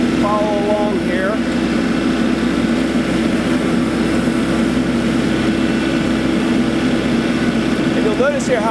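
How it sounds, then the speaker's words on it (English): A steady, loud, droning whine from a TrailBlazer TB-Flex loader-mounted mower power pack, held at low RPM and then brought up to speed, runs continuously throughout with a faint tonal sweep at the start and end. "we're turning our power pack on here at low RPMs, bringing this thing up to speed"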